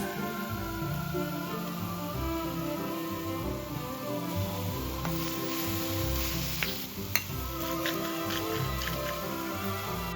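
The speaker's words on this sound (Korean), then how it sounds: "느타리 버섯, 양송이 버섯을 먹기 좋게 잘라서 올리브오일, 소금, 다진 마늘, 발사믹 식초를 넣어서 간단히 볶을 겁니다" Sliced oyster and button mushrooms sauté in olive oil with salt, minced garlic and balsamic vinegar, giving a steady soft sizzle with scattered crackles and stirring clicks throughout.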